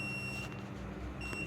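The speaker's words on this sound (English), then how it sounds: "the beep also we can hear" A thin, high-pitched electronic proximity warning beep from an ultrasonic sensor sounds steadily, drops out for a moment, then resumes; fairly quiet against a low background hum.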